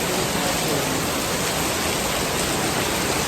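Heavy rain pours steadily at an outdoor shooting location in Delhi, a dense, even hiss with no breaks across the whole stretch and no voices.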